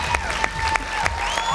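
An audience applauding a dance troupe at a televised talent-show gala, dense clapping from a crowd with sustained music tones running underneath, brief and loud.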